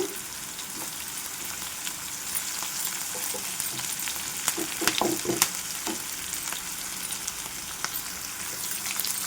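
Cauliflower masala (gobi masala fry) with green chillies and curry leaves sizzles steadily in a pan, with a few sharp spatula scrapes and clinks from stirring around the middle; no voices.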